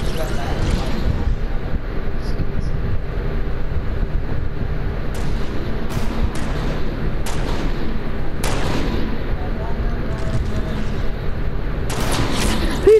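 Rapid semi-automatic gunshots crack out in a Fortnite match, sharp bursts and booms scattered over a rushing background, with players talking over the fighting.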